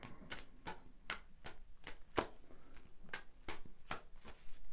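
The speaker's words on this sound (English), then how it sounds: "So a good shuffle." A run of crisp, evenly spaced tarot card snaps and taps, about ten in under five seconds, close by and quiet, with no talking.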